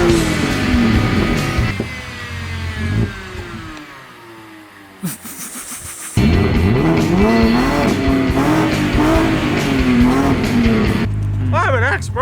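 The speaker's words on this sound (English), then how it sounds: "the best thing to do to get that oil going is to just redline it from a cold start" A BMW E90 engine is revved hard to redline from a cold start. It is loud and close, its pitch climbing and falling through repeated surges, with a brief lull partway through.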